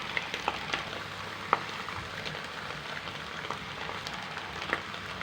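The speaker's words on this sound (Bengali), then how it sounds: "সব মশলাগুলো একসঙ্গে দিয়ে ভালো করে একটু কষিয়ে নিতে হবে।" Whole spices, lentils and bay leaves sautéing in hot oil give a steady close sizzle and crackle with scattered sharp pops, without any voices.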